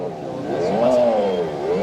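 The electric motor of a kids' ride-on toy car rated for 100 kg revs up close by, a whining tone that climbs, peaks and dips again over a couple of seconds.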